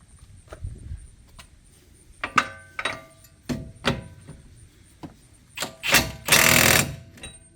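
An impact wrench on a 32mm wheel bearing nut during replacement of a worn wheel bearing: sparse mechanical clicks and knocks, then a loud, close, rattling hammer burst near the end, without speech.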